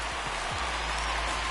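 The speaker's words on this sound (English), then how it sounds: "You just sensed it was coming with the heaviness of the rain" Heavy rain pours steadily over a baseball stadium during a Phillies–Mets game, a dense, continuous hiss with a few low thumps underneath and no voices.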